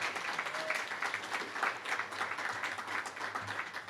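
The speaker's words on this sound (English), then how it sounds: "One more round of applause for all the organizations who came out tonight." Applause from an audience at a town hall meeting in Fayetteville, honoring the organizations present, a dense, steady patter of many hands clapping throughout at moderate volume.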